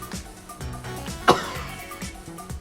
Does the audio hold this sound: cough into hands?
yes